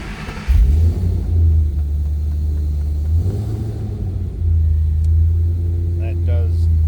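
A 2010 Ford Mustang Roush Stage 3 coupe cranks and catches with a sudden burst, then settles into a deep, loud, steady rumble that swells briefly in revs before idling on.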